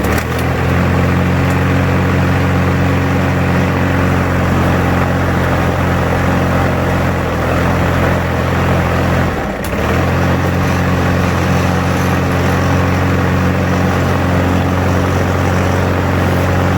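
A neglected push lawnmower engine runs loud and close at a steady, buzzing idle, with strong low harmonic drone throughout and a brief dip in pitch and power midway before it recovers to the same constant running note.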